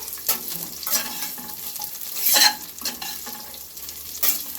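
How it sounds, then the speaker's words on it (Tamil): Bitter gourd sautéing on a low flame, with a soft continuous sizzle broken by several close scrapes and clinks of a spatula stirring in the pan. "சிம்லேயே வச்சுக்கோங்க கொஞ்சம் வதக்கிக்கலாம்"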